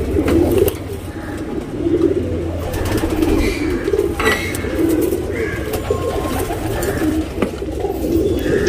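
A male Guldar tournament pigeon coos steadily up close, its low throaty calls repeating in a continuous rolling murmur with a few faint chirps from other birds in the background.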